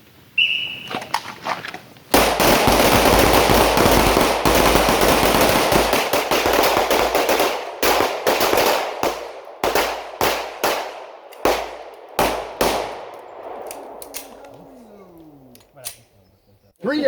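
Pistol shots on an outdoor shooting range during a fighting pistol class in Washington: a dense stretch of loud, overlapping blasts gives way to a string of separate sharp cracks, then quiets.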